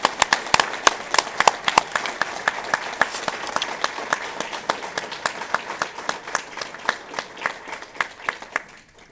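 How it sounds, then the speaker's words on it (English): A crowd at a Veterans Day parade applauds public safety workers with steady clapping, several sharp, distinct claps standing out over the wash and continuing evenly throughout. "one more round of applause for our public safety folks"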